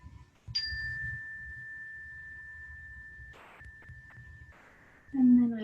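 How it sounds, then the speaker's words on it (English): A single yoga bell is struck once, its clear high ring sustaining and slowly fading over several seconds in a quiet room, with a soft breath or rustle near the end. "to the sound of this bell."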